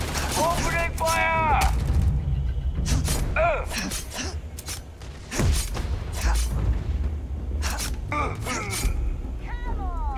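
Gunfire, explosions and mechanical clatter erupt in a space combat fight in the video game Starfield, in bursts over a steady roar while a person gasps and talks over them.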